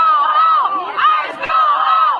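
A crowd shouts and yells as federal agents and officers move in, loud, dense massed voices rising and falling continuously with brief dips.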